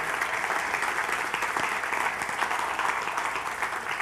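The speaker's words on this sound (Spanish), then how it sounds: "Dale un aplauso al Señor." A church congregation at a sermon applauds, a continuous, even roar of many hands clapping at steady volume throughout the clip.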